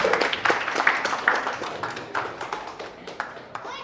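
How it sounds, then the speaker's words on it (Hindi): An audience at a felicitation ceremony and success party claps in a brisk burst of handclaps that gradually thins out, fairly close, with a few sharp individual claps standing out. "जोरदार तालियां"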